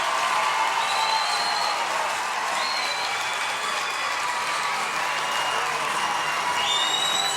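A large crowd at a 2015 state high school softball championship applauds and cheers continuously, a dense wash of clapping with occasional whistles cutting through.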